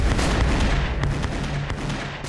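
Firearms go off on a battlefield in a loud, continuous barrage of overlapping shots and booms over a rumbling, smoky din, with no voices.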